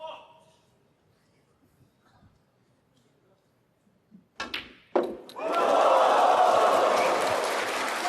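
Snooker crowd at the Xi'an Grand Prix final bursts into loud, sustained applause after a couple of sharp thuds, the clapping swelling and holding steady to the end.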